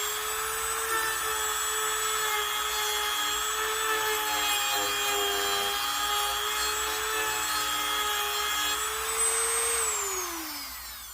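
A Dremel 200 rotary tool whines at high speed in a loud, steady, high-pitched drone that holds for about ten seconds, then winds down as it is switched off.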